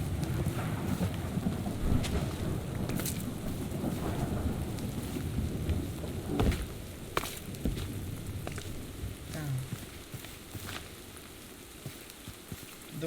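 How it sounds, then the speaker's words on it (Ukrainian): A thunderstorm with rain in TerraFirmaCraft on Minecraft 1.12.2: a steady, loud wash of rain and wind continues throughout, with occasional sharp cracks and rumbles over it. "Гроза."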